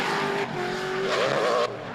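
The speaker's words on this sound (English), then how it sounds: "Rob White's car with that NASCAR V8 under the bonnet, one of the best sounding cars in the comp" Drift car with a NASCAR V8 under the bonnet at a drift competition at Sydney Motorsport Park, its engine revving hard with a loud, steady high-pitched howl that rises and wavers, close and continuous.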